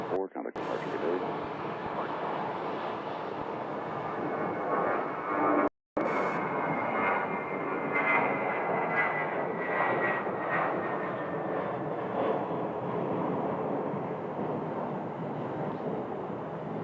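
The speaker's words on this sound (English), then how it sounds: "And there's an American 737. Just turned onto the taxiway." An American Airlines Boeing 737 jet taxis at Sky Harbor airport, its steady engine roar continuous and fairly loud, with a brief dropout partway through and a faint high whine riding over the rumble.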